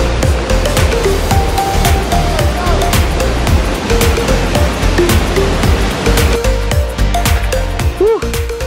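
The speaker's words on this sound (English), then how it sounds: "We're walking through the jungle and we hear the waterfall." Loud, steady roar of a jungle waterfall, rushing, falling water filling the whole scene, with faint voices underneath.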